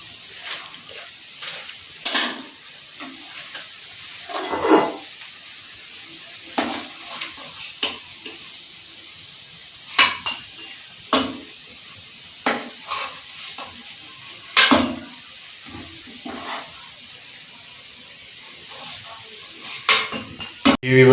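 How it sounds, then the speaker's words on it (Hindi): Fried gulab jamuns are lifted from a pan onto a plate: intermittent metal spoon scrapes and clinks against the pan recur every couple of seconds over a steady frying sizzle. "अभी हम इसको प्लेट में निकालते हैं गुलाब जामुनों को"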